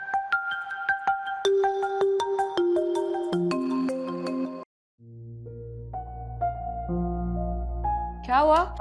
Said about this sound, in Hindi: कोई रॉन्ग नंबर है, बार बार कॉल करके तंग कर रहा है।